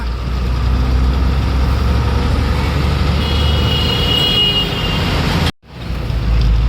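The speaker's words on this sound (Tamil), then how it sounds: "மக்களே ஆப்போசிட்டில் பாருங்கள் பயங்கர டிராஃபிக் எவ்வளோ தூரத்துக்கு நிற்குது" Dense traffic noise from a jam on Beach Road: a continuous rumble of idling and creeping engines, heavy vehicles among them, heard close and steady, with a brief dropout near the end and no talk.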